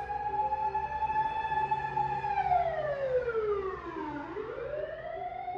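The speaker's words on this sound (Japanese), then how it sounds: "まだ消防車の音が聞こえるね。" A fire engine siren wailing at a distance, its pitch sliding down and then rising again, steady and moderately faint.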